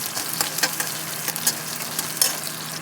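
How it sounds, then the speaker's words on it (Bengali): Chopped onion frying in oil with chilli and cumin, a steady close sizzle with occasional scraping stirs of a spatula, no voices. "পেঁয়াজটা একটু ভাজা ভাজা হয়ে গেছে"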